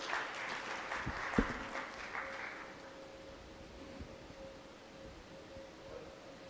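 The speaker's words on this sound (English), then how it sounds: "And an applause for all our fantastic speakers." Audience applause at a clean air high-level forum, a burst of clapping that swells briefly and then thins into scattered claps over room noise.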